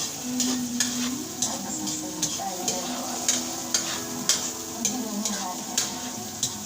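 Onion, garlic and tomato sautéing in a pan for a bottle gourd and sardine dish. A spatula scrapes and taps in an even, regular rhythm over a steady background sizzle.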